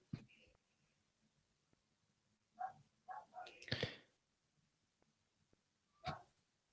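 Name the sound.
dog barking downstairs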